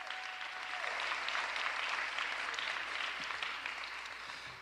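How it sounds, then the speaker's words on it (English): Audience applause at the Philadelphia mayor's second annual State of the City address, a dense sustained clapping from a large crowd that swells and holds steady for several seconds, heard alone. "Give Andre a huge round of applause."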